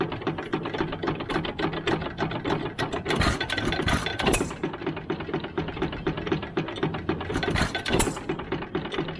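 A 1914 Sandow line engine built by the Sandy McManus Manufacturing Company of Waterloo, Iowa, runs with a fast, steady mechanical clatter and ticking rhythm, with a couple of louder bursts of rattle standing out midway and near the end.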